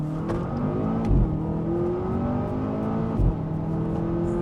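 A 2017 Volvo V60 Polestar's 2-liter four-cylinder engine revs steadily under acceleration, a close, continuous drone broken by two brief low-end surges near the one- and three-second marks.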